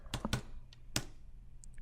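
A computer keyboard clicks in a few quick, close keystrokes, two in a rapid pair and then a lone tap after a short pause, while a sink position is typed into kitchen design software.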